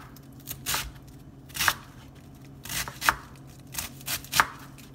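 A knife slices cabbage thin on a cutting board for an oxtails, cabbage, peas and rice meal, giving about seven crisp, close chops in an uneven rhythm, with no talking.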